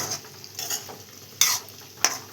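Cumin and mustard seeds fry in a pan of hot oil with turmeric, giving short bursts of crackling sizzle separated by quieter stretches, with occasional stirring.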